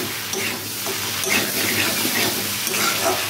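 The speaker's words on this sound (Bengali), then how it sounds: "মিক্স করবো, নাড়তে থাকবো। এইভাবে কষিয়ে নেবো বন্ধুরা ভালো করে।" Spicy crab curry being stirred and sautéed in a pan, a continuous close sizzle and hiss with scraping, spoon-stirring movements throughout.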